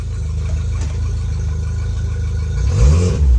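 The outboard engine on a 2007 Fisher Liberty 180 boat runs in gear, a steady low rumble that swells into a louder rev near the end, heard close up with no talking.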